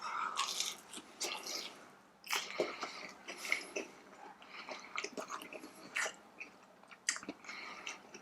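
Someone bites into and chews fried breaded cheese seasoned with curry powder, close and fairly quiet, with irregular crunchy bites and soft moist chewing over several seconds and no talking.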